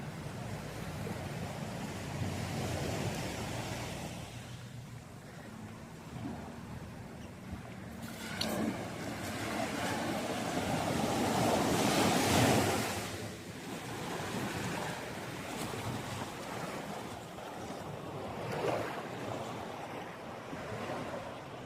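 Sea waves roll onto a small beach on Langkawi island in Malaysia, a steady broad wash of surf with swells building and receding, strongest around the middle, mixed with wind rumble on the microphone and no voices.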